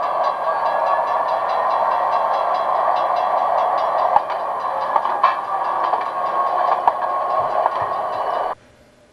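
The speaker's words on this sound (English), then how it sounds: "we see 3 Century 420s and 2 Century 628s heading a westbound freight into Bethlehem" A westbound freight train headed by three Century 420 and two Century 628 diesel locomotives rumbles steadily into Bethlehem, Pennsylvania, with a sustained engine drone and faint rail clicks before cutting off abruptly.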